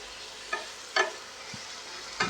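Chickpea greens are turned over in a pan with a few separate scraping stirs over a low, quiet sizzle, each stroke short and close.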